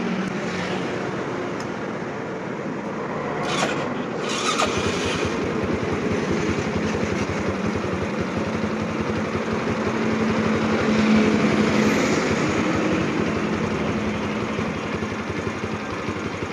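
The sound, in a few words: Honda Jupiter Z motorcycle engine idling during regulator test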